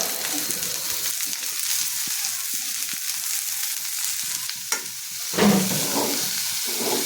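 Chopped cabbage is stirred as it fries in a pan, a continuous loud hiss and sizzle with occasional soft spoon scrapes and one heavier knock toward the end, close up.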